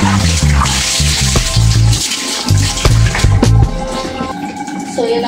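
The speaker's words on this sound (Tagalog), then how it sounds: "So, magbanlaw na tayo." Water pouring and splashing loudly and continuously close by as soap is rinsed off during a bath, with a few knocks and thuds mixed in.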